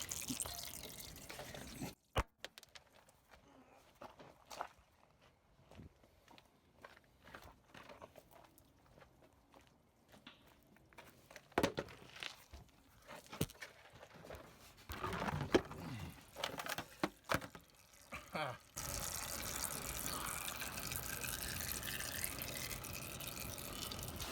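Fluid from a 1979 Ford F-150 drips and splatters into a catch pan outdoors, with irregular taps and trickling at close range, scattered clatter, and a steadier wash of water-like noise toward the end.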